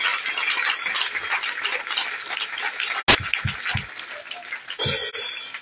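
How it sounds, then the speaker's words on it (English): A church congregation claps during an inauguration service, a continuous rushing wash of applause with a sudden loud bang partway through and a few thumps after. "Let's clap for the congregation."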